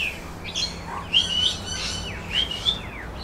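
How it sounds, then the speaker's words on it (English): Small birds chirp at a balcony feeding spot, bright high tweets coming in short bursts of two or three calls, close and clear over a quiet outdoor background. "This is Margaret's bird guest house."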